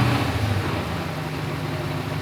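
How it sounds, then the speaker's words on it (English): A Dodge V8 Hemi idles with a steady low, even rumble, heard close and alone without talk. "The engine's got a nice rumble, and it's running perfectly fine."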